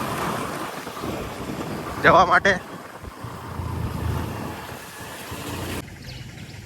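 Wind rushes over the microphone while riding Honda Activa scooters, a steady buffeting roar throughout, with a short burst of talk partway through.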